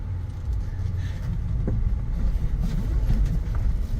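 Steady low engine and road rumble from a 2003 Toyota Sequoia Limited with about 255,000 miles on a test drive, heard from inside the cabin as a continuous drone with faint wind noise and no talking.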